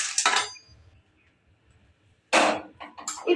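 Utensils clink as fried peanuts are moved onto a plate, with two short bursts of metallic scraping and clatter at the start and near the end, separated by a quiet pause.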